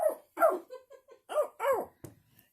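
A dog barks close by in a quick run of five or six sharp barks and yips, some short and whimpery, with a brief pause before the last one.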